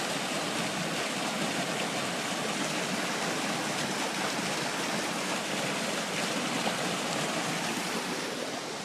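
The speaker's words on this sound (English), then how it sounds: "Manistee River Trail waterfall" Steady, full-bodied rush of water pouring over a roughly six-foot drop into a plunge pool along the Manistee River Trail, continuous and close with no voices.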